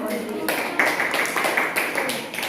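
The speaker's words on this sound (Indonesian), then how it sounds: "tepuk tangan untuk kita semua ya." A classroom of students claps together in a steady, dense patter of many hands, fairly loud and close, lasting a couple of seconds with voices mixed in.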